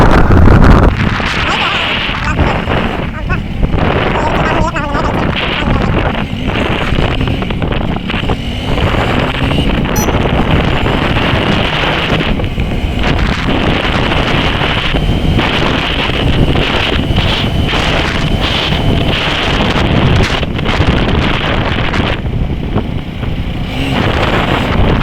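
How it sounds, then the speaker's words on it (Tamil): Strong coastal wind buffeting the microphone near Manapad, a loud continuous roaring rumble with gusty surges throughout, while someone talks underneath. "பாருங்க ஏற்ற மாதிரி காற்று பயங்கரமாக அடிக்குது."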